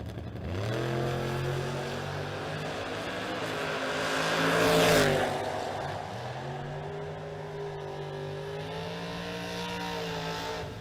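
A Chevy II drag car from Moret, Virginia launches down the strip, its engine a loud sustained roar that swells past mid-run and then holds steady, with no talk over it.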